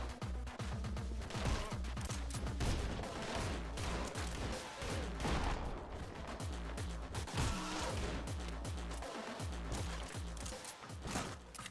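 Dense, sustained automatic gunfire from an SMG in a PC video game played on Linux, with rapid overlapping shots and crashing impacts filling the whole stretch, loud and constant.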